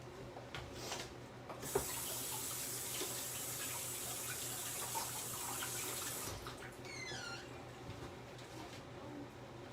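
A kitchen tap runs steadily for several seconds in a home kitchen after onions are chopped, a close, even hiss of flowing water with faint clatter before and light handling noises as it stops.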